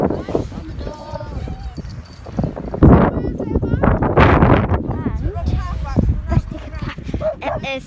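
Dogs bark and yip in short bursts among people's chatter outdoors on a cold, windy beach at Weymouth, the barks fairly close and irregular.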